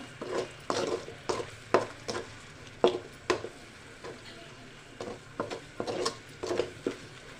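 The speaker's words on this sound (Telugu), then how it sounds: "కొంచెం సాల్ట్ కలిపుకున్నాము" A spoon stirs salt into fish curry in a pan with tomato and oil, making repeated soft scraping knocks against the pan over a faint sizzle, steady and close.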